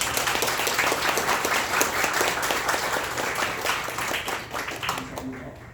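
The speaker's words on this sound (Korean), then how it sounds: "우리 이분들을 위해서 박수 한번 치십시오." Seminar audience applauds in a hall, dense sustained clapping from many hands at a steady level for several seconds, then thinning out at the end, with some voices mixed in.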